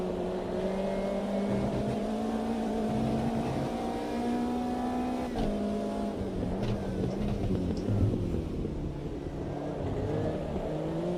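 A race car engine in the Automobilista 2 racing game drones and revs continuously, its pitch climbing and dropping through gear changes, loud and close with no talk over it.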